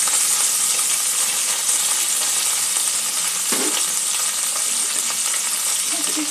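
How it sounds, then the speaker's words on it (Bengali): Chopped tomato and grated ginger fry in a pan for a katla fish curry, making a loud, steady, close sizzle with an occasional faint clink. "একটু ভালো করে ভেজে নেব"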